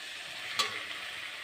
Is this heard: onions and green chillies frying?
yes